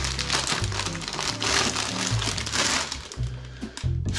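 A bag of smoked beef flavored potato chips crinkles and rustles close by, a continuous crackling plastic sound throughout.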